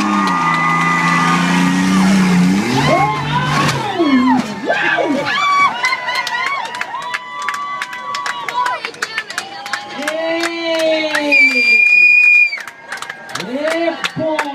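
Spectators at a car stunt show cheer, shout and whoop loudly, with excited voices and an announcer talking over the crowd throughout.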